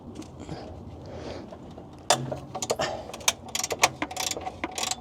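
A ratchet wrench works a bolt on an abandoned Mazda Miata, quiet fumbling at first and then a run of rapid close metallic clicks in short bursts.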